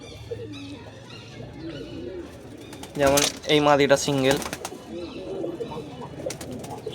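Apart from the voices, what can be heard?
pigeons cooing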